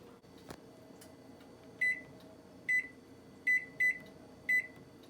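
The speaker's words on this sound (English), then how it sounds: "So our 4-minute timer has just beeped." A kitchen timer beeps five times after running for four minutes while instant ramen cooks, sounding as short, bright, evenly loud tones over a low steady background hum in a quiet room.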